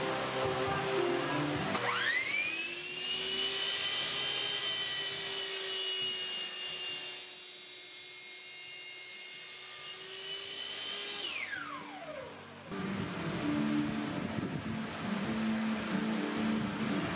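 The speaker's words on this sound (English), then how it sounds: "use a pattern bit on my router to route out the final shape" A router fitted with a pattern bit shapes a farmhouse chair back leg blank, spinning up to a loud, steady high whine for about ten seconds and then winding down, close by over a background of workshop noise.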